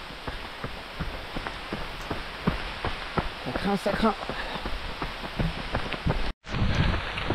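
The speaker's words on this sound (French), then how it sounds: "l'orage s'intensifie." Rain and gusting wind from an intensifying thunderstorm during outdoor trail-running training, a steady close rush of rain noise with scattered drop impacts and a brief dropout near the end, while someone speaks.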